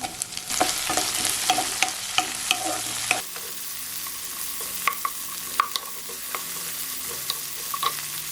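Onions sizzle and fry to brown in a hot pan while a spoon scrapes and stirs them in irregular clinks, close and steady.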